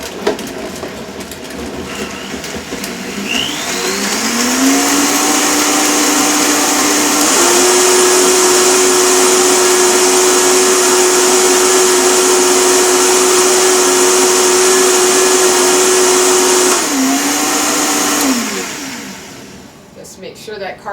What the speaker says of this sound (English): I'm just going to turn it on with the Vitamix until it's blended.